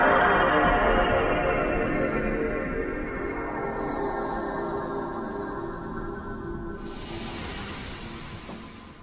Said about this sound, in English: that is the sound of a PS2 starting.